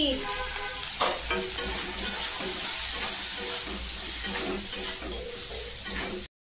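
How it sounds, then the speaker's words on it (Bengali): Okra with poppy seed paste, salt, turmeric and chilli powder sizzles loudly in a pan while being stirred, with steady frying hiss and scraping of the spoon, and no voices. "পোস্তটা দিয়ে একটু নেড়ে নেব।"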